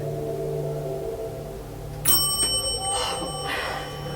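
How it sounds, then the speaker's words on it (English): During a seance, a small bell suddenly rings out in a quiet room, giving a bright strike followed by a few lighter tinkles that fade away. "Spirit, if that was you, please ring the bell again."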